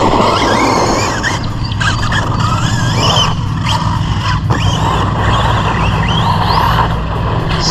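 An Arrma Kraton 4S RC basher car drives nearby, its electric motor whining loudly and steadily with pitch rising and falling as it accelerates, over a constant rumble of tyres on rough ground.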